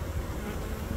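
A honey bee swarm clustered close to the ground gives off a dense, steady buzzing hum that holds loud and unbroken throughout, with no voices.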